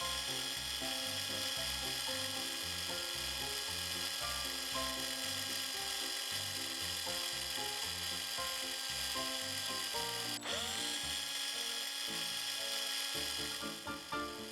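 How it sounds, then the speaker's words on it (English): A noisy electric screwdriver powers a two-hose rig for drawing fuel from a car on a busy street, a constant whirring drone with a steady mechanical pulse throughout. "2 hoses attached to a noisy electric screwdriver."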